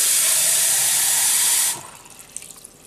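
Running water rinsing fermented tomato seeds, a steady loud tap-like rush that stops abruptly partway, followed by faint drips and small clinks.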